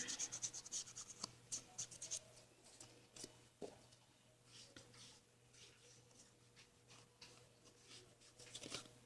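Ink being rubbed and dabbed around the edges of a paper tag in a vintage craft project, giving soft, close scratchy strokes in uneven bursts over a steady low hum, with no talking.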